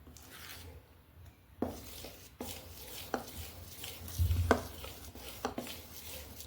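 Idli batter being stirred in a bowl, with soft thick squelches, a few sharp taps of the spoon against the bowl, and a quiet room behind.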